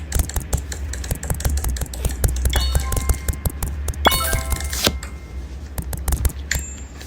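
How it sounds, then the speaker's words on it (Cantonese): Bright chiming, clinking coin pickups like an ATM or cash sound in a Roblox obby-style game, several quick rings over a busy stream of tapping key-like game clicks, with a cluster of ringing tones midway. "錢嘅聲音就係 ATM 嗰啲聲音嚟。"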